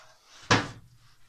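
A drawer in a welding cart's lower cabinet shuts with one sharp knock, close and fairly loud, then a brief rattle fades into quiet.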